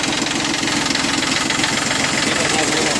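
A Yanmar F15D compact tractor's diesel engine idles steadily at close range, a continuous even rumble with a faint knocking texture and no other sounds over it.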